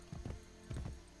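A horse's hooves clip-clop in the Assassin's Creed Brotherhood game, heard as two quick clusters of close, fairly soft hoofbeats with no voice over them.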